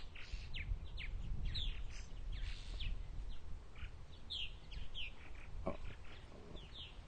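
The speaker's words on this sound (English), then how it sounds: "there's our Purple Martins flying around" Purple Martins circle overhead on a lazy summer afternoon on eastern Long Island, New York, giving repeated bright, gurgling chirps scattered across the air above a low, steady outdoor rumble.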